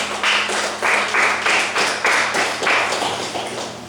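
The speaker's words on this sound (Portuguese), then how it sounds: "As palmas louvam o Senhor Jesus." A church congregation claps hands together in a steady rhythm, with about eight evenly spaced, close, fairly loud bursts of clapping over a few seconds and no talking.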